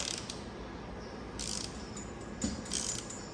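Ratchet wrench with a T50 Torx bit turning the single bolt on a BMW 2, 3 or 4 Series seat belt pretensioner, giving soft mechanical clicking and ratcheting in short bursts over a steady background hiss, close by.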